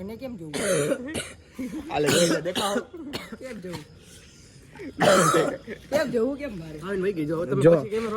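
Several deep, chesty coughs burst out between stretches of talking, close and fairly loud, with throat clearing mixed in.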